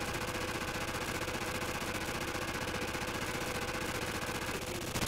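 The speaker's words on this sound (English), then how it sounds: "I'm gonna get an MP44 and just shoot it down." MP44 gunfire in the Call of Duty 4 video game, a dense, continuous rattle of rapid automatic shots at steady loudness throughout.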